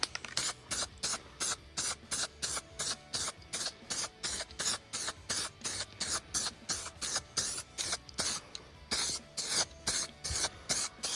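A spray gun lays a coat of lacquer on a Toyota car body in steady, evenly spaced hissing bursts, about two a second, each a short blast of spray, continuing without pause and without voices.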